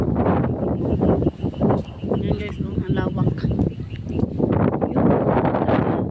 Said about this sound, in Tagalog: Kasi mahangin dito.